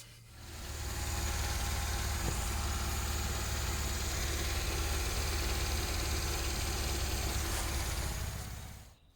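A Suzuki kei truck engine that fouls plugs and floods with fuel idles steadily, fading in at the start and cutting off at the end, with a rough, constant drone and no talking.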